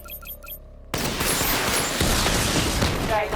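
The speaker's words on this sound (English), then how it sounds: "Charge up missile barrage to level 2 and destroy 4 active targets to complete diagnostic test." Missile barrage firing in the Batman Arkham Knight video game: a dense, loud roar of rapid launches and explosions bursts in abruptly after a short quiet stretch and holds steady to the end.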